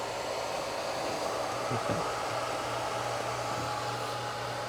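Two cooling fans inside a RIDEN RD6030-W digital bench power supply run steadily, one blowing and one drawing air, giving a constant broadband whoosh with a low hum and a couple of faint knocks, close by and without speech.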